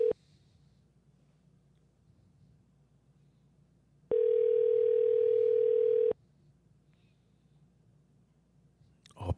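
An outgoing telephone call rings on the line: a brief tone at the start, then one steady two-second ringback tone, set in near silence and followed by a faint click at the end.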